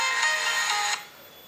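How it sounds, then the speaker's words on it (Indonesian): A telephone ringtone chirps brightly for about a second while an outgoing call is being placed, then cuts off to quiet. "Coba aku telepon si Ben dulu"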